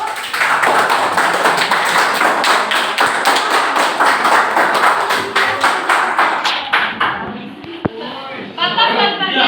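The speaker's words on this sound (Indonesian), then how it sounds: "Wah, betul. Tepuk tangan." High school classroom applause during a student-teacher's practice lesson in Indonesia: students clap in a dense, steady burst for about seven seconds before it thins out, with a few voices underneath near the end.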